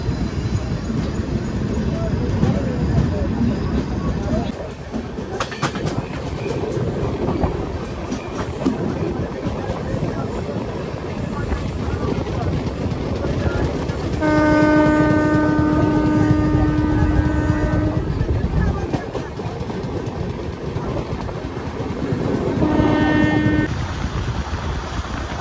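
Vande Bharat Express on the Katra Mata Vaishno Devi–New Delhi route crossing past at speed, a loud sustained rail roar with a train horn sounding twice, near and continuous throughout.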